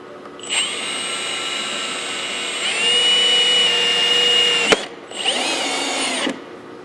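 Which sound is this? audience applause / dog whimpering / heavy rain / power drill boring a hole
power drill boring a hole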